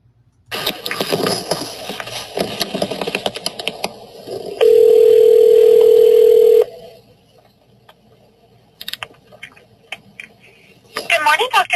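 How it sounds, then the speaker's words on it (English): A phone call at a doctor's front desk begins with a burst of noise, then a steady dial tone lasting about two seconds, then a quiet gap before noisy bursts return near the end. "I want you to listen to a phone call, and this is a phone call with Jasmine"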